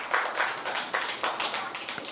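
A group of children clapping in a room, a loose, uneven burst of claps carrying on for a couple of seconds, moderately close and loud.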